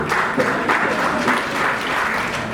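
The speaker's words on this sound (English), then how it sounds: "Applause for sense of humor is a really good idea" Audience applause at a public gathering, a continuous wash of many hands clapping at even loudness, full and close, with no voices over it.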